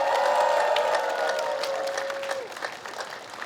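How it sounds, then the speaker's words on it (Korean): A crowd at an outdoor political campaign rally in Ansan claps and cheers briefly, dense applause overlapping a sustained amplified tone that fades out, with the clapping thinning toward the end. "문재인 후보 힘내시라고 여러분 박수 한번 해주십시오."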